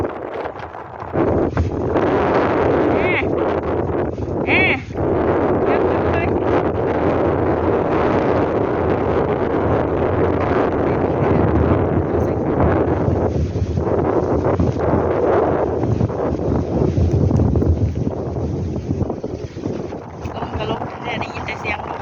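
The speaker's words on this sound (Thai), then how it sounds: "ได้ยินแต่เสียงลมเราถ่ายคลิปก็ได้" Strong wind roars steadily against the microphone on a fishing boat in cold weather, a dense continuous buffeting that runs the whole time with occasional gusts and faint knocks beneath it.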